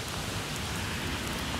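Steady rain falls in Moscow, a dense, even hiss of drops on surfaces with no voices, close and constant throughout.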